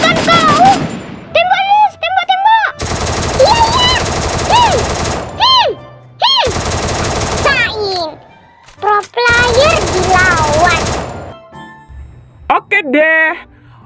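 Rapid bursts of gunfire from the mobile game Sakura School Simulator, loud clattering volleys broken by pauses, mixed with children's excited voices talking over the action.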